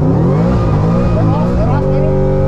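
A car engine revs hard under full throttle, its loud, steady roar climbing and shifting in pitch over a couple of seconds, with a person talking over it.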